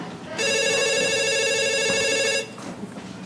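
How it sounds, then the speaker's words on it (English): An electronic telephone ring sounds once in a steady bright burst of about two seconds, loud and close, on a stage set at a spelling bee, with quiet room noise before and after. "Brooke, will you tell Leaf he has a phone call, please"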